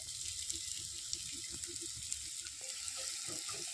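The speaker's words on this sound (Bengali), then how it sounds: "এবারে এর মধ্যে দিয়ে দেবো আমি বড় সাইজের একটা পেঁয়াজ কুচো।" Chopped onion, a large one, goes into hot oil already browning whole cumin seeds, giving a soft, steady sizzle with faint crackles and occasional stirring taps, fairly quiet and close.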